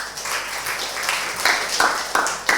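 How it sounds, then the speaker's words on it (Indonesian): A classroom group claps for a team of students, a steady ragged patter of hands with a few sharper claps standing out near the end. "Saya kasih aplaus kita kasih aplaus buat kelompoknya Zaki."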